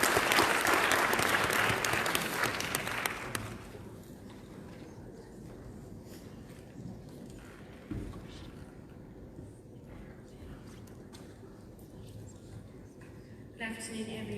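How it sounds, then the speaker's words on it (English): Audience applause greets a speaker at an event on HIV and young people, a dense burst of clapping for several seconds that fades into quieter room sound, with a short flurry again at the end. "Let's give her a round of applause."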